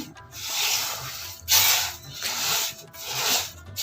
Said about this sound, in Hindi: फ्लेम ऑफ कर दिया और हल्के हाथ से मैं मिक्स कर रही हूँ चीनी